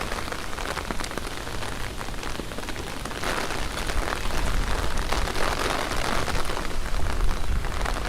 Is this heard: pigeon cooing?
no